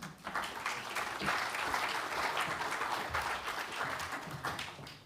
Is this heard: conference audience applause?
yes